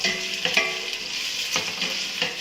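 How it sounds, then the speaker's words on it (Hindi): Chopped onions fry in hot oil until golden brown for a white chana pulao, a steady close sizzle broken by a few sharper scraping stirs, with no talking. "इसको हम गोल्डन ब्राउन करेंगे इसको, प्याज को।"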